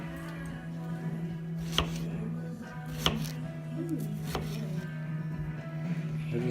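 Knife dicing fruit on a cutting board, a few distinct sharp chops spaced apart over a steady low hum, with faint background sounds and no one talking.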